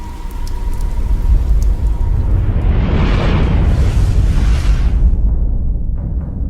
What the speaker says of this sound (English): Even rain.